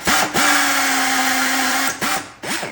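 A power drill whines into Cessna wing material in short bursts: one long steady run, then two brief spin-ups close by, with no talk.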